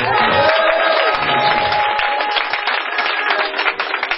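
A congregation at a church wedding celebration applauds and cheers loudly, a dense wash of clapping and voices with a tonal instrument or singing running through it.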